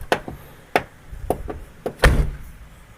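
A car's driver's side rear door, not yet sound-deadened, shut with a firm thud after several lighter clicks and taps of the latch and handle, all close by with no talking.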